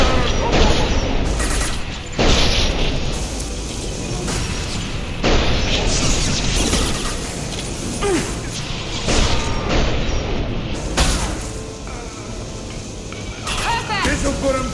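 Heavy gunfire and blasts in Mass Effect 2 aimed at bringing down a tank, a dense loud barrage of shots and booms running throughout, with voices speaking over the combat.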